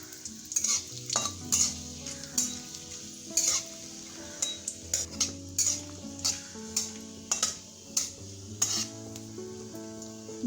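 Panch phoron and dried chillies fry in hot oil while a spoon or spatula repeatedly stirs and knocks against the pan, giving a rhythmic series of clinks and scrapes over a low sizzle, close and without speech.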